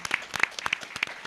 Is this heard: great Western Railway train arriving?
no